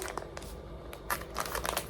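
A thin thermal foil sheet being handled, producing intermittent crisp crinkling and rustling bursts, close and fairly quiet, with louder clustered crackles toward the end.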